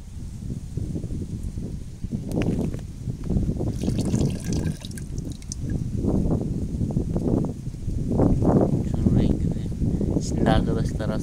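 Potato pesticide mixture poured from a container, a steady liquid trickle and splash running continuously under ongoing talk, moderately loud and close.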